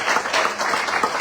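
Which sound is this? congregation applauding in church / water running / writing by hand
congregation applauding in church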